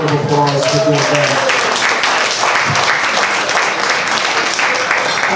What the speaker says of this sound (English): So give yourselves another round of applause for doing that.